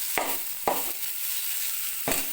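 Cabbage frying in a pan over lowered gas gives a continuous close sizzle, broken by three sharp stirring scrapes spaced unevenly, with no talk.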